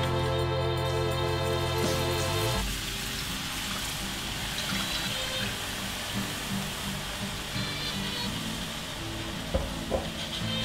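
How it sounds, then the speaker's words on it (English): Beef stock poured into a browned roux in a hot pan, a loud hissing sizzle and bubbling that shifts into a steady simmering rush, with a few clinks of a utensil. "It's time to add in our beef stock."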